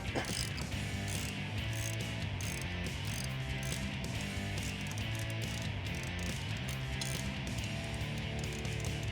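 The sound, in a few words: 19mm socket ratchet loosening Jeep shock bolt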